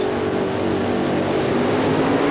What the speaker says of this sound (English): The revs come up as they take a look at the lights.